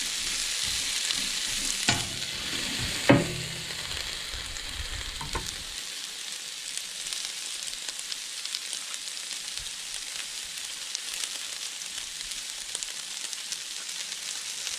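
Onion and orange, red and yellow peppers sizzling on a 22-inch Blackstone griddle, a steady close hiss with a couple of clanks from a spatula early on.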